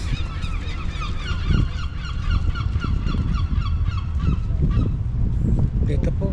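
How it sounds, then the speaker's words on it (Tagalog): Many geese honk loudly near a pier, calls overlapping in a dense, continuous chorus of repeated squawks over steady low background noise throughout. "Dito po maraming ibon,"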